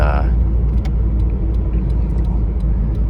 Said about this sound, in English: you can give the car gas as you're turning, and the LSD will pull you through the corner